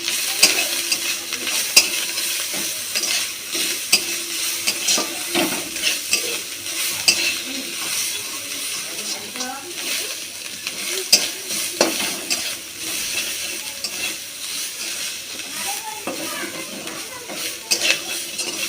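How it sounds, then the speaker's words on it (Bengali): Grated potato with green chili and ginger fries over low heat, giving a steady close sizzle layered with frequent scraping and stirring strokes and occasional clinks of metal against the pan. "গ্যাসটা আসতে রেখে আমি এটা ভাজবো"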